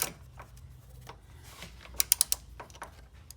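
Ratchet with a deep socket loosening 12 mm strut tower nuts on an Infiniti Q50: faint mechanical handling, then a quick burst of four or five sharp ratcheting clicks, close and quiet.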